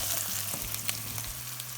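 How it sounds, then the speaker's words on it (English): Onions softening in a pan over low heat for a potato and cauliflower curry, giving a steady soft sizzle with a few light stirring scrapes, close and alone with no talk. "You can see the onions are softening."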